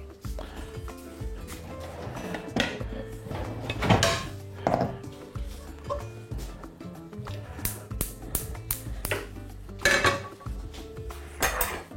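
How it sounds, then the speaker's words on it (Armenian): Metal pots and lids clatter and clank in a kitchen, with scattered knocks and rattles as a lid is set onto a cooking pot, close and fairly loud in bursts. "Ծածկենք կափարիչով։"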